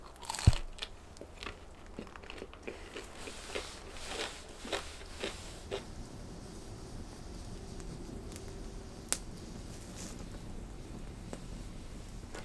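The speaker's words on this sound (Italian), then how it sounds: "Il pane scout è croccante fuori ed è rimasto morbido dentro." Crisp crunching bites and chewing of campfire-baked scout bread, crusty outside and soft inside, at a winter bushcraft camp in Denmark; close, irregular crunches over a faint wind background.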